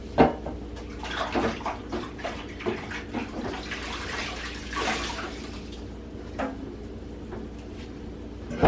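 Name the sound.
washing hands under running water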